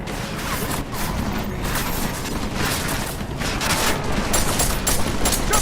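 Sustained gunfire from the video game Deus Ex, a dense, continuous barrage of rapid shots and impacts that stays loud and close throughout without letting up.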